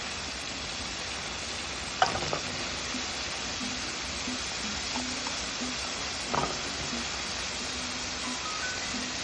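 Beans and peanuts frying in a pan with a steady broadband sizzle throughout, marked by a couple of brief sharp scrapes of stirring near the start and middle, no voices.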